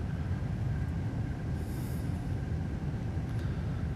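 Acela high-speed train cruising at around 130 mph in Train Sim World 5 on the Boston to Providence route, a steady low rumble and rolling drone that holds even and loud throughout with no break.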